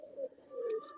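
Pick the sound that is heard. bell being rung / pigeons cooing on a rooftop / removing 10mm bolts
pigeons cooing on a rooftop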